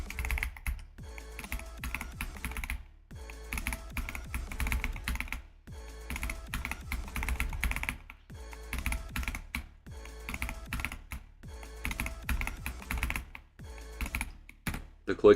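Rapid, continuous computer keyboard typing and clicking during gaming, dense bursts of keystrokes with brief pauses, close and steady throughout.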